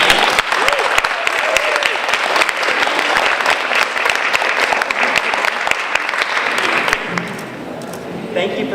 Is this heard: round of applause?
yes